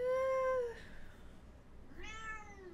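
A pet cat meows twice during a podcast recording, a long clear tonal meow followed after a short pause by a second rising meow, close to the microphone in a quiet room.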